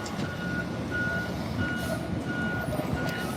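A truck's reversing alarm gives a steady run of evenly spaced beeps, fairly distant, over a constant rumble of engine and traffic noise.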